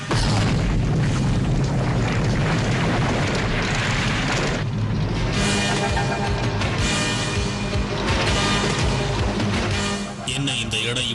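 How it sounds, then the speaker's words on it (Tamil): Cartoon volcano eruption: a dense, continuous roar of booming rumble and crackling debris, loud and sustained throughout with heavy low-end blasts, under a dramatic soundtrack-like wash. "அந்த எரிமலை வெடிச்சு சிதறிக்கிட்டு இருக்கு"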